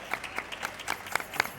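A small audience at a book presentation gives brief, sparse applause, with distinct individual claps in a loose, uneven rhythm, fairly quiet and with no one speaking over it.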